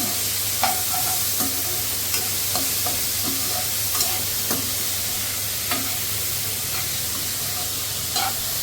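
Paneer with colourful yellow, red and green vegetables fries in a pan over a medium flame, giving a steady close sizzle with the scrape of stirring and scattered spoon taps, and nobody speaking.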